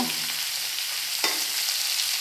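Small raw chuno fish are stirred in a hot frying pan, giving a steady close sizzle with a brief scrape of the spatula partway through.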